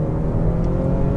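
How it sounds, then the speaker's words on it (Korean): Kickdown acceleration in a BMW 530i xDrive with a four-cylinder engine, heard as a steady low engine drone and whir from inside the car, continuous with no speech. "지금처럼 킥다운을 해보면"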